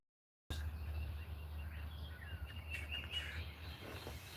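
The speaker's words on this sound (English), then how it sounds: "And we got the birds." Faint birds chirping outdoors, scattered thin calls over a low steady background hum, fairly distant and quiet.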